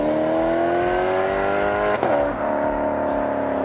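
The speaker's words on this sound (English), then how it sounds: "you always gotta drive it in sport mode, using those flappy paddles, because that is how you can make this V8 scream." Maserati GranTurismo with a 4.2-liter Ferrari V8 revving hard in sport mode, a loud rising engine howl that climbs, drops briefly at a shift and climbs again, heard close and alone.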